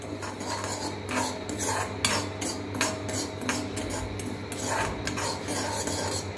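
Semolina is fried and stirred in a metal pan while making papaya payesh, a spoon scraping and clinking against the pan in steady repeated strokes, close up, with no talking.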